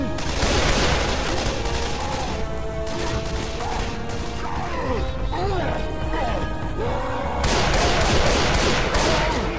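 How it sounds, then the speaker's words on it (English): Rapid gunfire from a Left 4 Dead 2 zombie shooter, dense bursts and crashes sustained throughout at loud level, with players' voices mixed in. "Keep shooting!"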